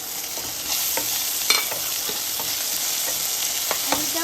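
Potatoes fry and sizzle in a pan for an aloo paneer dish, a steady close hiss with scattered clicks of stirring and a few sharp spatters, with no voices.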